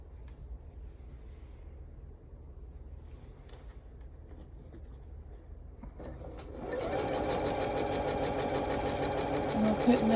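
A sewing machine stitches sashing onto a Calico Snails table runner, its motor starting loud and steady about two-thirds through after quieter background, with a person talking over the earlier part.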